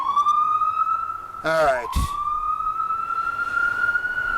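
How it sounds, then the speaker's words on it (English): Emergency vehicle sirens wail outside, a loud sweeping tone rising and falling with a brief burst of noise midway, while someone speaks a couple of words during a comedy show. "Bunch of sirens rolling around."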